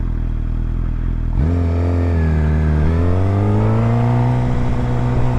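Suzuki GSX-R750 sport motorcycle engine revving hard in low gear, a loud close rising roar that climbs in pitch after a sudden onset and holds a strong, steady howl.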